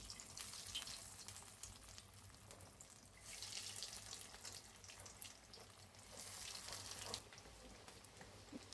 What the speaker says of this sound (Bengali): আমি এখন বিফ টিকাটা ভাজা করব। আমার তেলটা গরম হয়ে গেছে